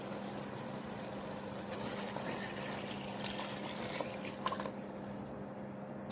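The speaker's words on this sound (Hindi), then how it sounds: "अभी मैं इसमें डालूंगी पानी।" Water poured into a cooking pot of jungle pulao with spices and softened vegetables, making a continuous splashing, gurgling stream at steady volume close by, with no talking.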